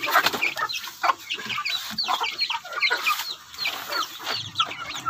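Rhode Island chickens clucking on open ground, a steady stream of overlapping clucks and short calls from several birds close by, with no talking.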